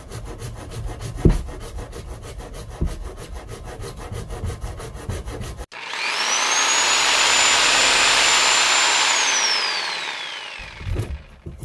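Hand pole saw cutting through a drainage pipe during a kitchen renovation, heard as a steady, close rasping stroke rhythm for several seconds, followed by a louder continuous whooshing roar that rises, holds and fades.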